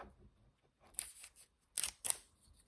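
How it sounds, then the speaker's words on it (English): Packaging around a Boatright Fjord knife being opened, a few quiet rustles followed by three sharp, crisp tearing snips of paper or plastic, close with no talk. "Let me see if I can get this opened up here without tearing it."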